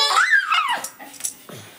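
A puppy gives a quick run of close, high whining yelps and whimpers, then falls quieter.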